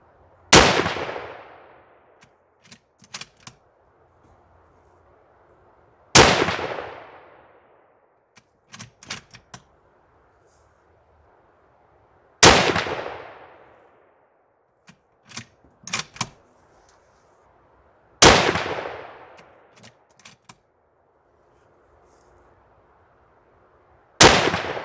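Rifle shots fired with PPU (Privi Partizan) 165 grain pointed soft point ammunition: loud, sharp cracks with decaying echo, spaced roughly six seconds apart, with faint clicks and rattles of the action cycling between them.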